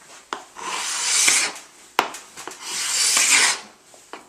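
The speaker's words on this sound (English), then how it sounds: "We hand scrape all this" A hardwood floor being hand scraped with a blade, two long rasping strokes drawn across the wood, each starting with a sharp knock, close and clear with no talk.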